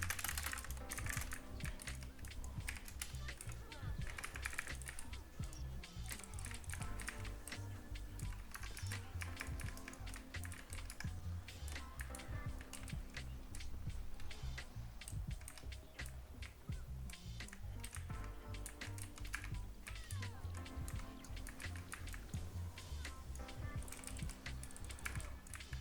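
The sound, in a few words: typing on a computer keyboard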